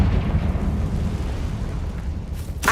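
Confringo fire spell blast in the game Hogwarts Legacy: a loud, continuous low rumbling explosion that rolls on for a few seconds and ends with a brief sharp crackle, no talk.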